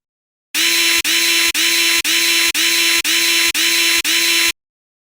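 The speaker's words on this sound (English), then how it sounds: "We need to remove these screws." A power screwdriver drives screws out of a NovaStar NovaPro UHD Jr Ethernet card module, whirring loudly in eight even, evenly spaced bursts of about half a second each with brief pauses between, close and alone.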